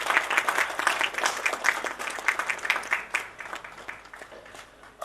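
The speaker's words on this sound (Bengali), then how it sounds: "আপনাদের করতালি আমাদের উৎসাহ" An audience at a foundation day celebration concert applauds during a felicitation, with dense, continuous clapping that swells and then gradually thins out.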